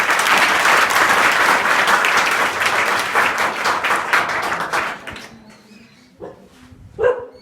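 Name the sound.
school audience giving loud applause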